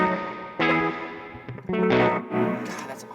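An electric guitar runs through a pedal with only its overdrive drive circuit on, sounding gritty and distorted in short strummed bursts with gaps between them, close and fairly loud with no talking.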